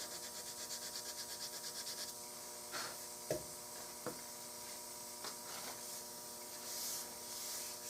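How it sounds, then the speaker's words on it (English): Sandpaper rubbing steadily over a custom wooden Remington 788 rifle stock, a continuous faint scratchy rasp with a few light knocks, no voices. "So you have to sand that."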